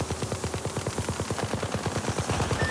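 Rapid automatic gunfire in the video game Apex Legends rattles in a fast, even stream of shots, loud and continuous throughout with no talk.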